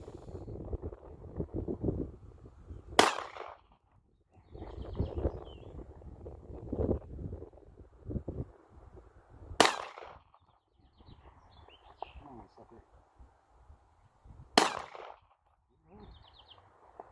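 Three sharp, loud gunshots from a Glock 17 9mm pistol fired outdoors, spaced several seconds apart, with wind buffeting the microphone and people talking between shots.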